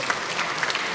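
Audience members in the National Assembly gallery break into brief applause, a soft, steady patter of many hands clapping at a distance for about a second.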